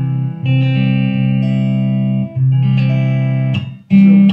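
Valiant Guitars Jupiter Mola electric guitar with its pickups in parallel, plugged in and played as loud, sustained notes and chord changes with a clean-to-mildly driven amplified tone, no talking.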